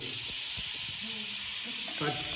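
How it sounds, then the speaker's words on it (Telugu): Tempering sizzles in a clay pot, a steady, bright hiss of hot oil running throughout, with faint voices and handling noises underneath. "ఈ మట్టి పాత్రలో తాలింపు వేస్తే చాలా బాగుంటుంది"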